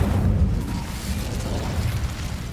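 A fiery Incendio spell bursts in Hogwarts Legacy as a loud, rumbling blast with a dense low roar that holds steady for a couple of seconds, with no voices over it.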